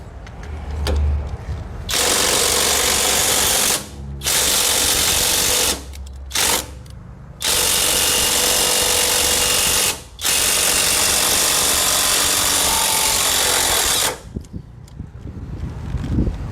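An STR 21V ST-780 cordless impact wrench with 1,100 Nm of torque hammers loose long bolts on a trailer bogie, loud close bursts of several seconds each separated by brief pauses.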